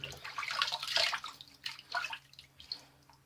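A razor is rinsed under a running tap during a wet shave with soap: splashy water in uneven bursts, loudest early, then fading to softer trickles and drips, close by with no talking.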